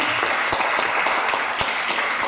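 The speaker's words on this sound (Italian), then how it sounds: "facciamo un applauso." A book-launch audience in Rende claps in steady, dense applause that fills the whole moment, close and even, with no voices on top.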